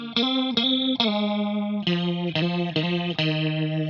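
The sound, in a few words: electric guitar lead tone through Fractal FM9 modeler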